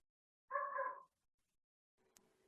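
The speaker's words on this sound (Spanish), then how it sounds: "¿Ustedes escuchan el ladrido de un perro?" A single faint dog bark, a short harmonic burst of about half a second, heard far off against near silence, followed by a soft low hum.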